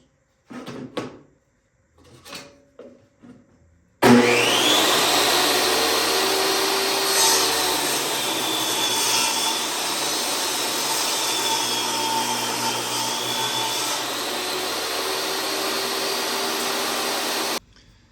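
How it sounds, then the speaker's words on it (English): Square wooden strips are turned into dowels on a wood lathe. A few sharp knocks and handling sounds come first, then a steady, loud motor whine with a faint rising tone runs until it stops abruptly. "I get some square strips that I can use on my lathe to turn the dowels"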